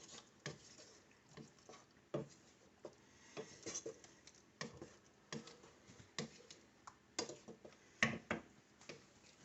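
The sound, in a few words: stirring melting applesauce in a pot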